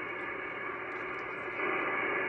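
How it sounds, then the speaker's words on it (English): Faint radio reception of the IO-117 satellite on an Icom IC-9700 with no preamp, fed from roof-mounted antennas through 100 feet of LMR-400 coax, heard as a steady wash of static hiss. "What you're hearing"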